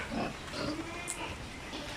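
Pigs on a flood-threatened piggery farm grunting and oinking at feeding time, a steady close chorus of snorts mixed with rustling, with one sharp higher squeal partway through.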